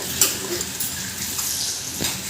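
Spice masala stirred into melted butter in a pan for pav bhaji gives a close, soft sizzle and scraping, with a couple of light clinks of the spoon and no talking.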